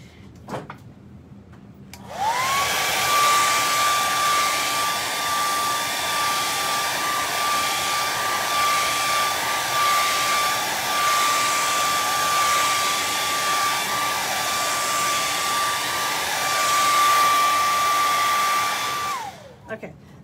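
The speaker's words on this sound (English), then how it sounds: "grab the blow dryer" A hair dryer switches on and blows with a steady whirring roar and a constant high whine for about seventeen seconds, then shuts off.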